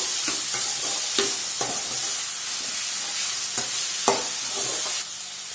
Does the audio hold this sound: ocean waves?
no